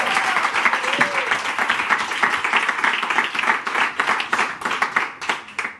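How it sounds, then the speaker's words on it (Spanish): Applause at a karaoke show recorded in a parked car, steady brisk clapping from several hands running throughout, moderately loud and close, with a brief voice at the start. "Míralo, un aplauso, hombre"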